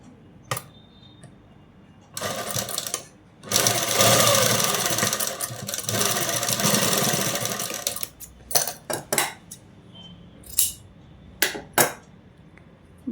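A sewing machine stitches a blouse in one long steady whirring run lasting several seconds, followed by short stop-start bursts and clicks. It is close up with no talking.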